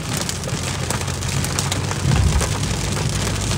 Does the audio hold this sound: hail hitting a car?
yes